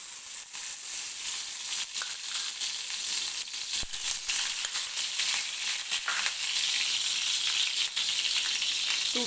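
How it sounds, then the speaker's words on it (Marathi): Ghee heats in a kadhai for mango sheera, giving a continuous close crackle and sizzle with small sharp pops scattered through it. "तर मी कढईमध्ये तूप टाकून घेते."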